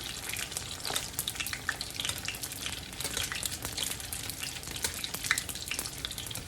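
Egg rolls fry in a pan of oil in a home kitchen, giving a dense, steady sizzle full of sharp crackles and pops that carries on without a pause and with no talk over it.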